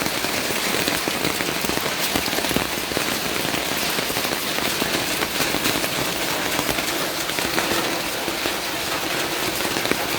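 Early morning rain falls in a steady, dense patter with crackling drops on surfaces, even and unbroken, with no voices.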